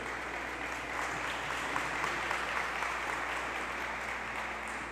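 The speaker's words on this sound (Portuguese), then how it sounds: "Aplaude com força, igreja." A church congregation at a state preachers' congress applauds: steady, dense clapping from a large crowd that holds an even level throughout, with no talking over it.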